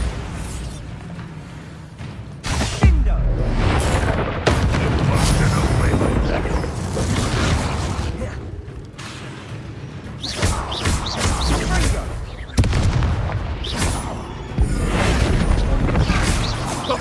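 Repeated spell explosions from the Bombarda curse in the Hogwarts Legacy video game, loud booming bursts and crashes recurring throughout a chaotic battle, with a voice shouting over them.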